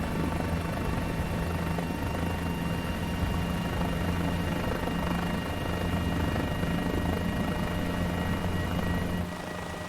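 A Guimbal G2 helicopter in Microsoft Flight Simulator 2020 drones steadily with a constant rotor whir and low engine hum, moderately loud and unbroken, with no talk.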